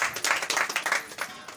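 A crowd claps at a campaign meeting with young motorcyclists in San Pedro. The applause comes in uneven, fairly close bursts and thins out toward the end.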